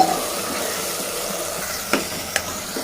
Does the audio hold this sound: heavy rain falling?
no